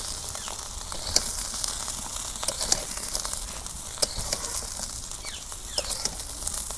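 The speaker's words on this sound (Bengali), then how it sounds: "এই দেখো টাকি মাছের মাথাগুনা ভাইজা ওইছে" Taki fish heads frying in a pan, producing a continuous bright sizzle with scattered sharp crackles and pops, close by and steady throughout, no talking.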